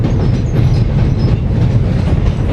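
A train rolls past close by near Waterloo in London, a loud, steady rumble of wheels and rail clatter that holds without a break through the whole stretch.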